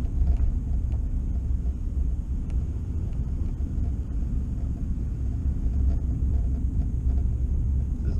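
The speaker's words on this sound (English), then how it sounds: "we are driving into Bienville Plantation." A car driving into Bienville Plantation, a private property: a steady, low engine and road rumble heard from inside the vehicle, constant throughout, with no talk.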